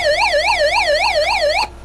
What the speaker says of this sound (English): It's got a useless siren.